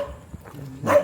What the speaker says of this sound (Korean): 강아지까지 짖네.